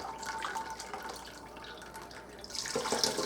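Hot homemade turkey stock strains into a container with a steady, close pouring trickle and dripping, growing louder and splashier near the end, with no talking.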